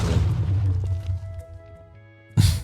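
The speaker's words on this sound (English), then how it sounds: "just explosion happening" A short explosion blast bursts out at the end of a stretch of Minecraft game sounds and tones, loud and sudden.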